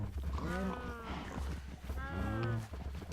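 Two drawn-out cow moos from Minecraft, the second following about a second after the first, fairly close and clear over a low background hum.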